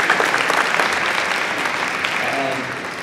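Steady applause from an audience at a community meet-and-greet for a police chief, a dense even clatter of clapping hands that holds throughout and tapers slightly at the end.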